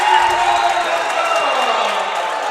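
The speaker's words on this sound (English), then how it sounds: "And listen to the crowd erupt." A college basketball arena crowd roars in a dense, sustained wave of cheering after a right-hand hook shot drops, loud and continuous over a play-by-play voice.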